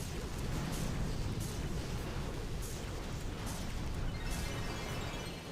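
Boom cannons fire in a video game battle against a crab boss, a dense run of repeated booming blasts and pops over a rumbling mix, with faint talk underneath.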